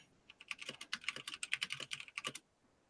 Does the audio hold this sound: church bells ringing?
no